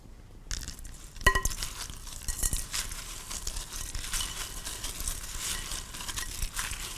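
Raisins and M&Ms snack mix are stirred in a bowl with a spoon, giving soft rattling, clinking and rustling that carries on steadily at close range after a brief quiet start. There is no talking.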